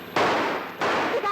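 Two sharp gunshot effects from an old radio play, each a loud burst that decays over a fraction of a second, with a dramatic voice just audible around them.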